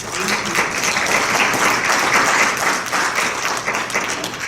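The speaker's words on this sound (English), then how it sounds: "Applause again for Sister Cortés." A conference audience applauds Sister Cortés again, a dense, even stretch of many people clapping at close range with no pause.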